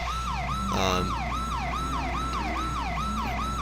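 A GTA IV police siren rises and falls steadily in repeated cycles, loud and continuous, with a brief burst of yelping tones near the start over a low engine hum.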